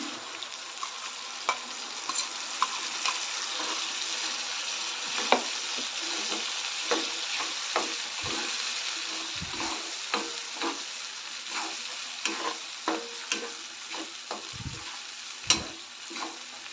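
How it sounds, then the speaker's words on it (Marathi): Ginger, garlic and coconut paste fries with softened tomato and onion in oil for a mixed vegetable kurma, giving a steady close sizzle with frequent scraping stirs and occasional spoon knocks, no talk. "चांगलं तेल सुटेपर्यंत परतून घ्यायचं आहे"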